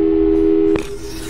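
A steady electronic telephone call tone from the Portal 2 video game hums for most of a second and then cuts off abruptly, leaving faint background hiss.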